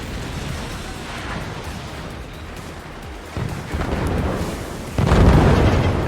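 Mortar shells explode in the strategy game Forts, a series of muffled booms and rumbling impacts that rise in loudness toward the end over busy game noise.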